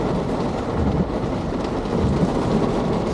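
Torrential rain pours down with rolling thunder at a Florida boat ramp near Stump Pass, a loud, dense and steady roar with deep low rumbles swelling underneath and no voices.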